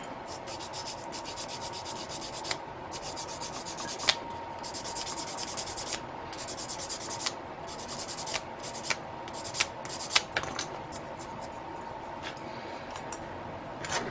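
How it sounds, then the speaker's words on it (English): A small plastic part from a Gundam model kit is sanded by hand in short, repeated rubbing strokes, close and fairly quiet, with a few brief pauses and light ticks from handling. "This one I'm going to sand down."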